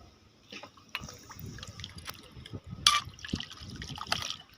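Water drains out of a vessel during the preparation of red sulphur (gandhak) with rock salt, a soft, uneven trickle and dribble running for several seconds with small splashes and one brighter gush near the middle, fairly quiet and close.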